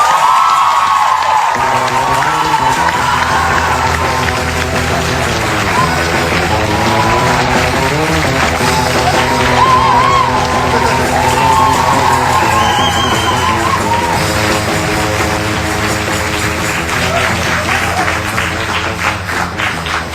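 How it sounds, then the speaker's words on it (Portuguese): A studio audience claps and cheers for a four-piece band from Alcobaça on a late-night talk show; dense, sustained applause with whoops fills the whole stretch, loud and close, with music-like tonal layers underneath. "Uma salva de palmas."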